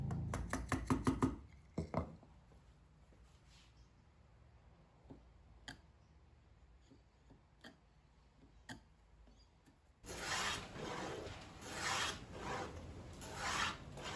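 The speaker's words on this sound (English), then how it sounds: "I then squared up the round corners with the chisel." Chisel work squaring the rounded corners of a wooden dresser frame: a burst of sharp rasping strokes at the start, then scattered light taps and scrapes, ending in a louder stretch of steady paring and scraping.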